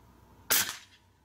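A single sharp report from an FX Boss .30 caliber PCP air rifle firing a pellet, a crisp close crack with a short decaying tail, alone in a quiet setting.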